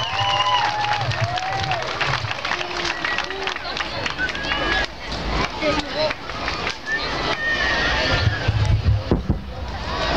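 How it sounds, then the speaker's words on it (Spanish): A concert crowd greets a young singer arriving on stage with broad applause and cheering, a dense clapping roar that swells and holds throughout, with an announcer's voice and background music mixed in. "¡Fuerte el aplauso!"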